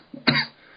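One short, sharp cough close to the microphone during a casual interview, preceded by a small throaty catch, then quiet.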